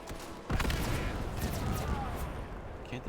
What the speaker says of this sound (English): Can't tell if we're getting caught in our own artillery